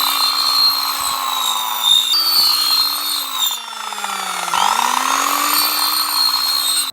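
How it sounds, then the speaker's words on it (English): A power saw cuts a series of notches into a countertop frame, its high whining motor holding steady, dipping briefly under load near the middle, then surging back up loud and close until it cuts off. "I'm going to cut little notches all along it so I can get a curve on it"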